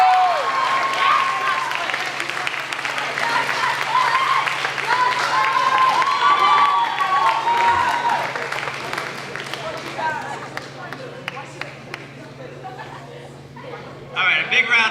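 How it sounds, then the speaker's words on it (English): Sustained applause from a crowd at an elementary school moving-on ceremony, dense and steady for most of the span with voices and cheers mixed in, thinning out toward the end before a brief final burst. "a big round of applause for these students who made a commitment to be here every single day"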